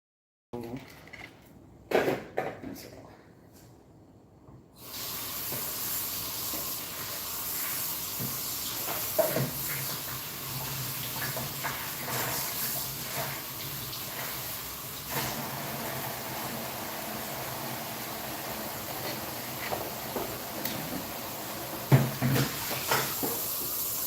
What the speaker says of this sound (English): So I'm just gonna rinse the celery off.